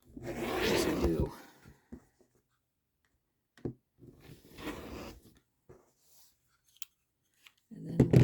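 Scissors cutting quilting fabric, a few short crisp snips and rustles separated by quiet gaps, close and fairly soft, with brief bursts of someone talking at the start and end.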